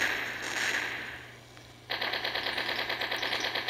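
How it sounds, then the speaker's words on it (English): Video-game machine gun fire opens after a brief lull, a rapid, evenly spaced stream of loud shots that keeps going to the end, preceded by a softer hiss of game ambience. "Got a machine gun to start out with."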